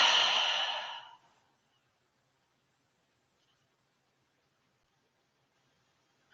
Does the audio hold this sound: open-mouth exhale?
yes